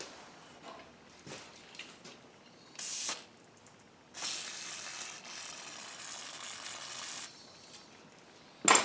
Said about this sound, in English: Brake cleaner action.